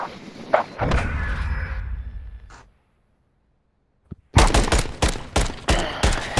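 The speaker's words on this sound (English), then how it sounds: "All of a sudden just shooting" Gunfire in an online shooter video game: a sustained rattle, then a short gap of silence, then rapid loud bursts of close shots in quick succession with no talk.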